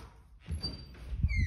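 A door at home is opened in the early morning, giving a short squeak and soft knock that rise after a brief pause; low rumble and faint room noise sit underneath.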